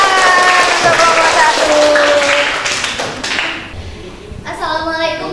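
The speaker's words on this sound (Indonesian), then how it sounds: "Tepuk tangan untuk kelompok" A classroom group claps for a team of students presenting, a burst of hand clapping that dips into a quieter stretch with scattered taps and thumps, then a brief voice is heard near the end.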